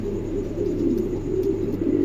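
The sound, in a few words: pigeon cooing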